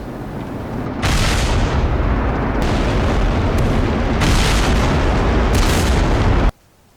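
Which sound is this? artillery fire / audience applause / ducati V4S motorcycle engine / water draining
artillery fire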